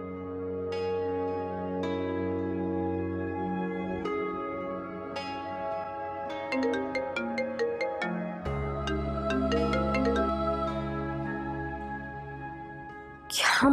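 A phone ringtone plays in a drama scene, a bright melodic tune of repeating electronic tones sounding steadily for over ten seconds with no talk over it.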